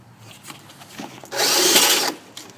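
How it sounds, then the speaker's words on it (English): A power drill with a large bore bit cuts through a door: quiet handling and faint taps, then a loud, steady whining grind for about a second before it stops. "attach the larger bore to the drill and make sure as you are drilling through, the other side does not get completely open"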